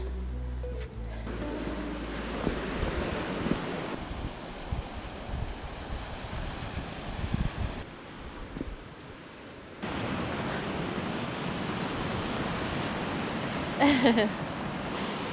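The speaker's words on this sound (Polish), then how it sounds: "ten szum fal" Sea waves washing onto the beach at Barafundle Bay on the Pembrokeshire coast, a steady broad roar of surf with wind buffeting the microphone, loud and continuous throughout.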